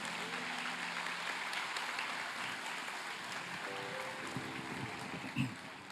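A church congregation applauds in a sustained, even wash of clapping during a sermon, with a faint voice rising briefly near the end.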